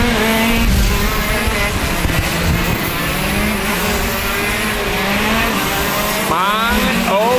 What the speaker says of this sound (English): The sound of a shifter is like no other.